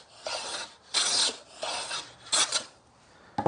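A hand plane draws four full-length shaving strokes along a wooden board, each a close, rasping swish separated by short pauses.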